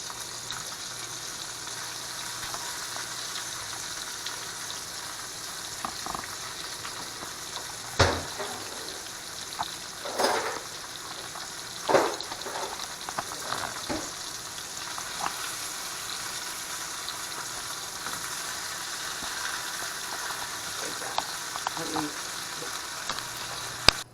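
Short ribs sear in a pot with a continuous close crackling sizzle, punctuated by a few louder sputters and the occasional clink of a utensil.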